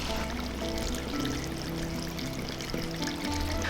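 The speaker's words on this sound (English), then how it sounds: "The tanks are officially full. Overflow pipe doing its job." Rainwater pours steadily from a full tank's overflow pipe, a continuous close splashing stream with a trickling quality and no one speaking.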